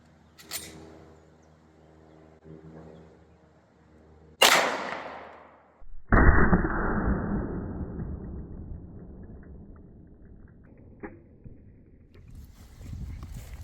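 Two sharp 9mm Federal Punch gunshots fired into a stack of boards outdoors, the first a loud crack and the second a heavier blast with a long decaying rumble, followed by faint wind noise.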